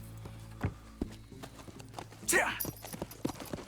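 Horse hooves clip-clop at a steady walking pace in the Red Dead Redemption 2 video game, moderately close, with a brief spoken word and other game sounds mixed in.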